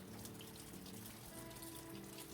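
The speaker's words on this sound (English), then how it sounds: "We are having the prettiest rainstorm right now." Steady rain falls through a pretty rainstorm, a continuous soft patter and trickle of water heard close by and alone, with no voices over it.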